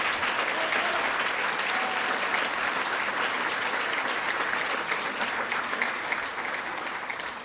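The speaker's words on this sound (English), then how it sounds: "Let's give Bill Farber a big round of applause" Sustained applause from an awards ceremony audience, dense and steady clapping throughout that eases slightly toward the end, with no voices over it.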